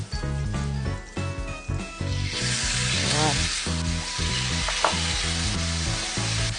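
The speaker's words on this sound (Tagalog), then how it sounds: "So, I'm just gonna coat the pan. Just mixing the butter and the oil. Diba? So, now na nagsisizzle siya" Butter and oil sizzling together in a pan for beef teriyaki, a steady bright hiss that swells after the first couple of seconds and continues beneath background music.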